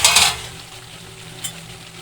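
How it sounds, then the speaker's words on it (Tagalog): Sliced eggplant frying in a pan, a short burst of sizzling and stirring at the start that fades to a quieter crackle with one more brief scrape, heard close and alone. "Yung eggplant kasi dapat makulit talaga siya kasi matagal siyang maluto"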